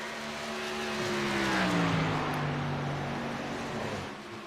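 Race cars in a championship event at Vegas lap the track, engines droning with a steady rising and falling whine as they pass at moderate distance, loudest midway, with no talk.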